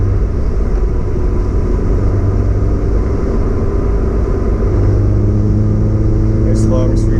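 A Honda S2000 cruises smoothly below its VTEC range, giving a steady low engine rumble and road drone that sits under someone talking throughout.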